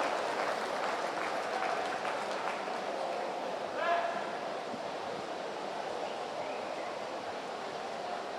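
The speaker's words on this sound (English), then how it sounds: "Give him a big round of applause, ladies and gentlemen" Audience applause at a swimming championship pool, steady broad clapping filling a reverberant hall for several seconds, with an announcer's voice over it.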